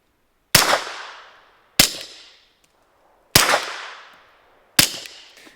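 Four suppressed 9mm shots from a Glock 19 fitted with a SilencerCo Omega 9K, each a sharp close report with a short decaying tail, fired at irregular intervals about a second or so apart.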